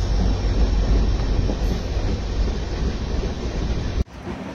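The Mandovi Express train on a Konkan railway run rumbles steadily and loudly with a windy roar, cutting off abruptly near the end; no one speaks.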